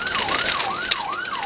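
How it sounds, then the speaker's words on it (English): A police pursuit vehicle's siren wails in a rising and falling sweep, repeating about three cycles in quick succession. It is loud and close over faint road noise. "With the emergency lights and siren activated, the pursuit picks up in intensity."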